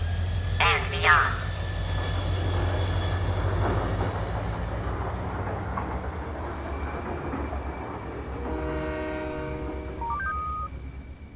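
A departing train in Halo 3: ODST, with a steady rumble under a long rising whistle-like tone, joined by a sharp horn blast early on and chiming signal tones near the end.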